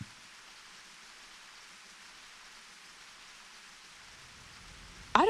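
Steady rain falling in the Silent Hill 4: The Room game, a soft even hiss that holds unbroken for about five seconds before a sudden louder sound cuts in at the very end.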